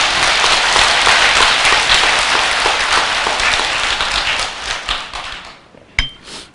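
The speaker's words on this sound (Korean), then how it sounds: "모두를 위해서 박수 한번 보내세요." A temple congregation at a Lunar New Year Buddhist service breaks into loud, sustained applause, many hands clapping together before the sound thins out and fades to a few scattered claps.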